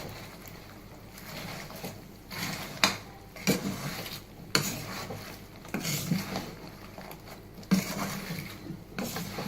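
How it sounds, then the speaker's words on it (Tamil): A spoon stirs a thick sugar syrup mixture in a pot off the heat while making shakarpara, producing slow, intermittent scraping strokes against the pot with quiet gaps between them and no speech. "இப்போ கொஞ்சம் நிதானமாக இதை கிண்டுங்க"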